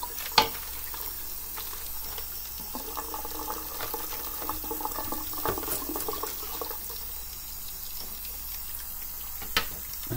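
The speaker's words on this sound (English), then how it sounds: "I hope you can hear me over that drain." Water drains steadily in a sink while kimchi cabbage is rinsed, a soft continuous gurgle with a couple of sharp clunks near the start and end.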